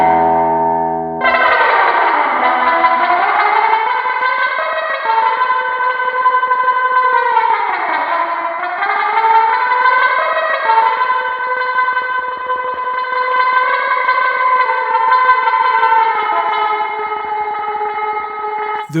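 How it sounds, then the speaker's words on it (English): Vintage-style spring reverb from the Fuse Audio Labs VREV-63 plugin, applied to a sustained, bell-like tone that fills the whole passage with a loud, dense, echoing wash and a pitch that swoops downward twice before settling. "The VREV-63 does not have one spring sound, but three."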